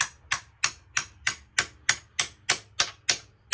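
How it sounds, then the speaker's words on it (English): Ten evenly spaced light metallic taps from a hammer on a socket while installing valve springs on a BMW 335d, steady rhythm, close and crisp with nothing else in the background. "grab a hammer, and you're gonna lightly tap it"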